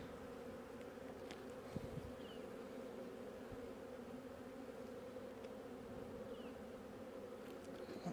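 Honey bees swarm an open hive during fall inspection of winter brood, a steady close drone of many wings with occasional louder passes near the microphone.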